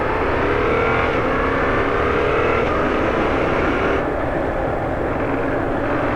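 A Yamaha MT-07 motorcycle engine runs loud and close as the rider twists the throttle, a dense continuous roar with slight rises and dips and steady wind rush, no voices.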